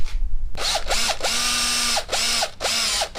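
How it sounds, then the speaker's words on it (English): A power drill whines in short bursts cutting a plastic Acerbis handguard for a Husqvarna FE 350S motorcycle, its pitch rising and falling as it bites in, with brief pauses between pulls of the trigger. "now we have to cut this side too. Just use the drill."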